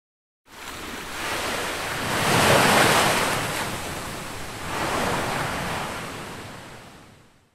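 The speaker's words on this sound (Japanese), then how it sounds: "さっきから聞こえるこれって、波の音？" Ocean waves in a Project Sekai video game story scene: a steady roar of surf swells twice into louder crashing peaks and eases back, with windy hiss and no voices.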